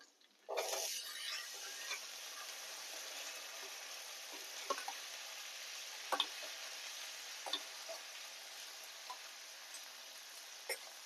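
Chickpeas stirred into a spice paste frying with Kashmiri chili powder for malai chana paneer: a steady, close sizzle with a soft spoon tick and scrape every second or so.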